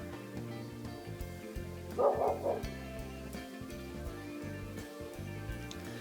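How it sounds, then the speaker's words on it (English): A dog barks faintly in the distance, a short burst of yips over a steady background of music. "My nephew's dog will not stop barking today."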